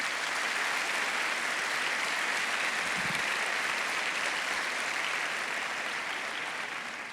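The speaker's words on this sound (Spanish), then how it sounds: "Dale un aplauso a Jesús." A church congregation applauds for Jesus, a dense, steady wash of clapping that holds at full strength for the whole stretch and eases slightly near the end, with no voices above it.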